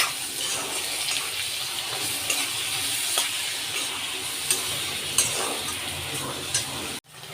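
A paste of ginger, garlic, chili and tomato fries in hot oil with a continuous bright sizzle, punctuated by occasional stirring scrapes and clicks, ending in a sudden clunk.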